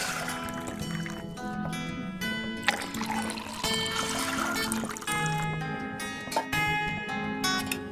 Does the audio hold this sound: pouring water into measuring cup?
yes